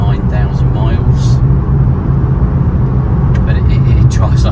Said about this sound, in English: It's a fantastic car, this. Drives really nicely.